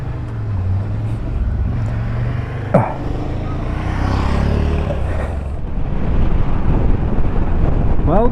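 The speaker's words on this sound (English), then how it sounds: "it's still extremely windy" Strong gusting wind buffets the microphone at a motorcycle campsite, a loud low roar that swells and surges, with a brief knock partway through and the wind growing heavier near the end.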